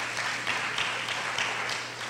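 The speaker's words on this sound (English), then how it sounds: "We can go ahead and clap for them" A room at a fire-safety press conference gives steady, moderate applause for city council members and county commissioners, a continuous wash of many hands clapping with no gaps.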